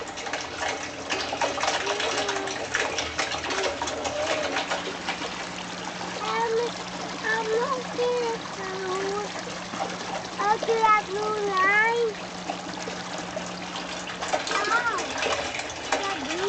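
Water trickles and splashes continuously, draining through a siphon pipe in an aquaponics system, while a person's voice briefly rises and falls in the background.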